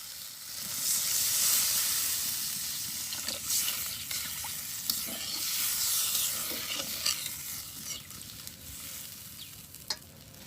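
Water poured into a pan of sizzling fried spice paste with ripe tomatoes, giving a continuous loud hiss and bubbling with occasional clinks and stirring scrapes throughout.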